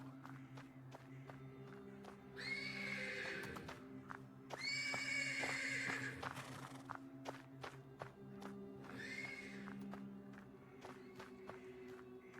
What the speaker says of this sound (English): I hear you, horse.